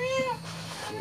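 A mother cat meows once over a steady hum at a border army post where food is laid out for her; the call is close and clear, then fades into background noise.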